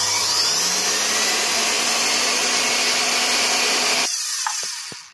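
Vacuum cleaner running with its casing opened up, a loud steady whirring roar with a motor whine rising at the start, then cut off abruptly, followed by a few light clicks.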